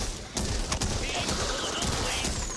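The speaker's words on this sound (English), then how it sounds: "Nice use of firecrackers." A rapid burst of loud cracking explosions crackles in a fast, dense string, firecrackers going off in the game Back 4 Blood, with a faint voice in the background.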